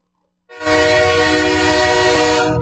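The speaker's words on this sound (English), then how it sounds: "Blow the whistle. Going off the rails." Train whistle sound effect blowing as one loud, sustained, harmonically rich horn blast that starts abruptly after a brief silence and holds steady to the end, with no talk.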